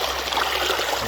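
Stream water rushes through a gold sluice, washing light sand out the back, a close, dense, steady rushing and gurgling of flowing water with no talk.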